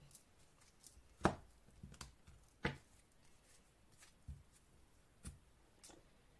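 A deck of tarot cards being cut, heard as a handful of sparse, quiet taps and brief card slaps spread out over a few seconds, with near silence between them.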